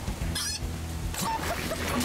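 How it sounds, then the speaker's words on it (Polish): A chicken clucks in the zombie game Darksburg, giving short honking, fowl-like calls over a steady game background hum. "Kurczak! Jest kurczak!"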